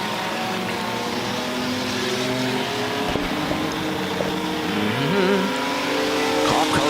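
Stock race cars roaring around the oval at Merrittville Speedway, a dense, steady engine drone with passing cars rising and falling in pitch, heard under an announcer's commentary.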